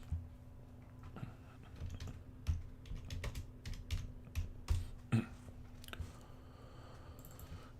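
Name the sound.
typing a card name on a computer keyboard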